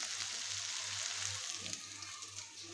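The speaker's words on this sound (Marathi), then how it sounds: "अशा प्रकारे आपण हे परतून घेतले" Vegetables sauté in a pan for a vegetable sandwich filling, a faint, steady sizzle and crackle close by, with a low hum under it.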